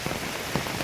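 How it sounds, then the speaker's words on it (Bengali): Heavy rain pours down outside a museum in South Goa, a steady, dense hiss of drops hitting surfaces, with no voices. "দেখো প্রচণ্ড বৃষ্টি হচ্ছে"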